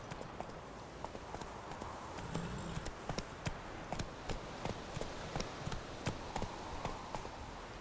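Horse hooves in The Witcher 3 video game clip-clop in a steady, even rhythm at moderate volume over a soft background.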